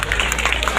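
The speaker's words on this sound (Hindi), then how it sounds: "आप तालियों से इनका स्वागत करें, तालियां बजना चाहिए।" Audience applause at a badminton club champion felicitation, a dense steady patter of clapping from a crowd, brief and fairly loud.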